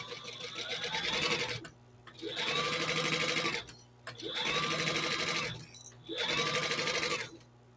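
Sewing machine stitching a fabric pencil case in four loud, close bursts of rapid mechanical whirring, each running about one to two seconds and separated by short pauses.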